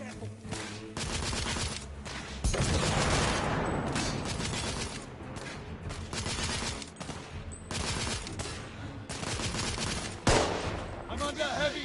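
Bursts of rapid gunfire from a PS4 shooter game rattle almost without a break, loud and layered with explosions, and shouted voices come through under the shooting.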